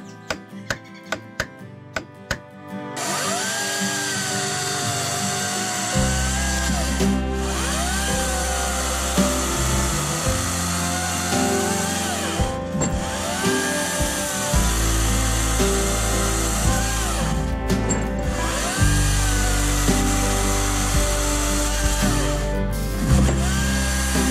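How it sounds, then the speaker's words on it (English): An Oregon CS300 self-sharpening 16-inch battery chainsaw whirs up after a few clicks and cuts steadily, its electric whine dipping under load in several long passes, loud and close. "other than being battery powered instead of gas powered, it's pretty similar to any other 16 inch chainsaw"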